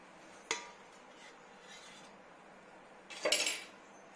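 A fluffy bun-style omelette being moved onto a plate, with a sharp metal-on-plate clink at the start and a louder scraping clatter of utensil against dish near the end, quiet in between.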